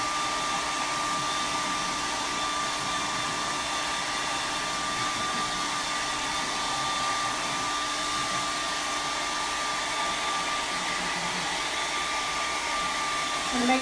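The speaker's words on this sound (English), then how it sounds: "I use a hairdryer a lot when I'm painting because it cuts so much time down" A hair dryer blows steadily on a Mod Podge paper napkin decoupaged onto an Easter egg, a constant loud whooshing hum with a faint whine, held alone throughout with no pauses.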